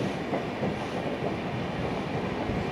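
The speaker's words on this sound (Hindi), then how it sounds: "लोकल ट्रेन और एक सुपरफास्ट ट्रेन में टक्कर चल रहा है" Steady rumble and clatter of trains running side by side, a local train and a superfast express, heard from a bridge at moderate distance without talk.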